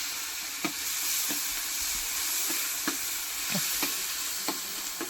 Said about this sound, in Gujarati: દાળ વઘારવાનું કામ ચાલુ થઈ ગયું છે તો દાળ વઘારે છે રીઠાણી